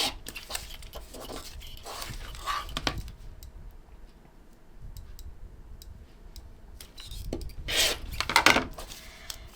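A paper-pieced quilt block is trimmed down the middle and along a diagonal, giving short scraping cutting strokes in two close bursts separated by a quieter pause, with no talking.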